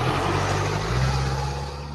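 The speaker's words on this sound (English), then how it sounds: "there's like car sounds" City car sounds in a sound-design piece: a low, steady engine hum of a passing vehicle with a slight shift in pitch, continuous and moderately close.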